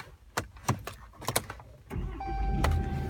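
A 2014 Ram 3500 SLT 4X4 pickup has its key turned after a few close clicks and clunks from the cab, then the engine turns over and settles into a steady, loud rumbling idle with a faint whine.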